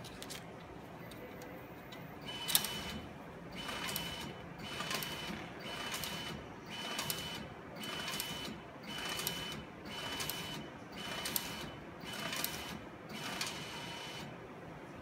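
An S10 cheque deposit machine processes inserted cheques, giving faint, evenly spaced mechanical whirring bursts in a steady repeating rhythm, with no voices.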